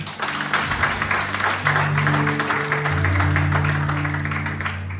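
A church congregation applauds together, a loud, dense spread of clapping from many hands that holds steady for several seconds, with sustained organ or keyboard tones underneath.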